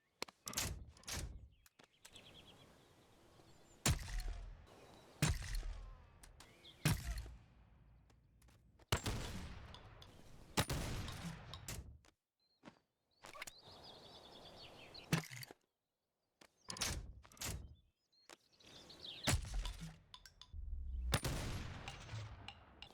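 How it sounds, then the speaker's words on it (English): Doom Super Shotgun fired in a Boneworks VR mod, a series of sharp, loud blasts spaced irregularly with short quiet gaps and reloading clatter between some of the shots. "This is the Doom Super Shotgun."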